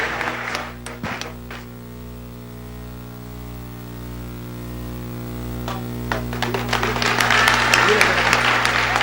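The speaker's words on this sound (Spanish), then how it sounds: "Un fuerte aplauso para el Padre" Applause builds toward the end, a crowd clapping loudly after earlier scattered claps, over a steady low hum and some background voices.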